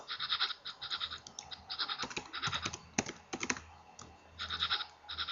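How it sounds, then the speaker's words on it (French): Quick bursts of typing on a computer keyboard, clustered keystrokes in rhythmic groups with short pauses, close and fairly quiet, no talk. "Dans votre barre de recherche, là, donc on tape Rainmeter."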